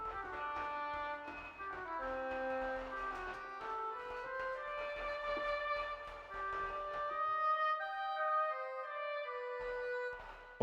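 Solo legato oboe from the CTO Nucleus orchestral template plays a slow, connected melodic line of sustained notes, quiet and alone with no talk.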